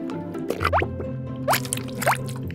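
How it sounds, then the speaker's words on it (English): Crayola Paint and Pour marble paint drips off hanging art paper in several distinct, close, wet plops spaced about half a second apart over a faint background hum. "I'm just gonna hang it this way and it's gonna just drip."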